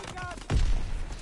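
A hand grenade goes off in the video game Call of Duty WW2: one heavy, booming blast with a deep low thud, preceded by brief game sounds and followed by a fading rumble.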